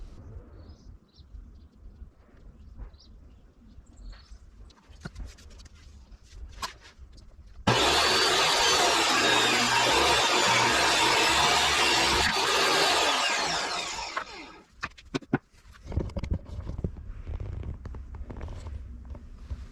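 A table saw rips wood for a tongue-and-groove joint on a custom built-in cabinet, a loud, steady, close whine lasting several seconds before winding down, framed by quieter shop clatter.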